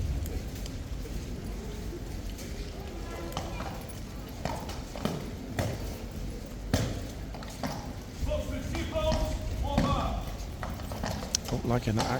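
Two horses stand on wet ground in the rain, their hooves knocking out scattered, irregular clip-clops and thuds at close range while people talk in the background.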